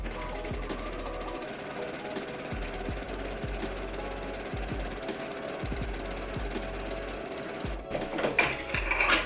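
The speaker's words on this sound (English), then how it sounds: "I'm gonna line it up in my machine, and I'm going to seal the edge." A sewing machine seals the edge of a fabric seam, its needle mechanism whirring in a steady rapid rhythm with brief pauses, close and clear, growing louder and busier near the end.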